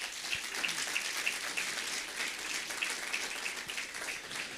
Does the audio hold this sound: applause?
yes